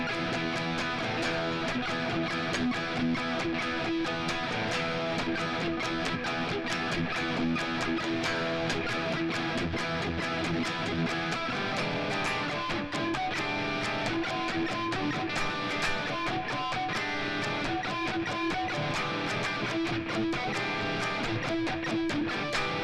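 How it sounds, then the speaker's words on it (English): Electric guitar strumming chords from a song jam, a dense, steady rhythm part that plays loud and continuous with no talking. "some cool chords here going on the guitar, and it sounds like this"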